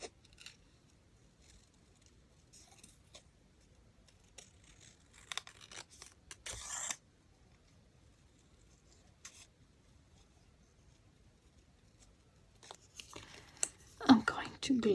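Scissors snip paper for a junk journal pocket in a quiet indoor setting, giving soft, scattered cuts and crinkles with a louder burst of cutting near the end.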